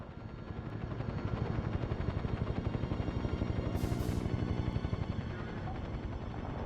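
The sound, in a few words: helicopter in 007 Nightfire video game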